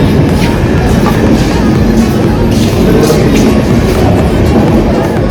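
A train passing close by, a loud continuous rumble of wheels and carriages with a faint rhythmic clatter, steady for several seconds without any clear speech.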